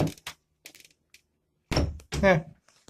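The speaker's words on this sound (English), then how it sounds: "this is what happens when you just push on the doors" Saloon doors with a stiff latch thunk and knock as they are pushed, giving a few soft taps followed by two louder, close thuds, with a voice briefly heard alongside.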